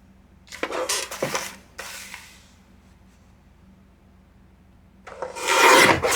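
Paper strips for junk journal envelopes being cut, close scraping and slicing strokes in two short bursts, a quiet pause, then a louder rasping cut at the end.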